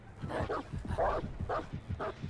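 The Houndmaster's dog in the Dead by Daylight game gives four short barks and yips in a quick rhythm, close and fairly faint.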